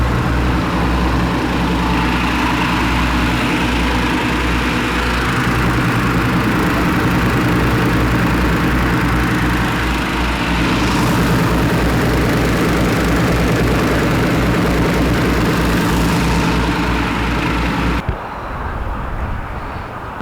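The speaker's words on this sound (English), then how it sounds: "So what's it like to be on board a Shackleton when the engine's running?" Four-engined Avro Shackleton Mk 3 with Rolls-Royce Griffon engines, heard from on board: a loud, steady, droning engine roar with layered low hum holds throughout, then drops abruptly near the end.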